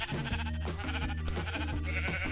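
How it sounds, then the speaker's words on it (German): A sheep in the Minecraft video game bleats several times in quick succession, its wavering, nasal calls clear and close with no speech over them. "Hockt einfach sich ein Schaf in meine Lore rein."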